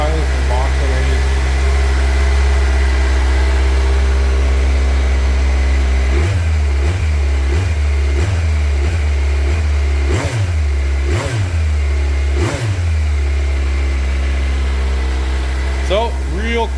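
A 2024 Kawasaki Z900 engine idles steadily, then gets several quick revs with a subdued, muffled stock exhaust note, fairly close.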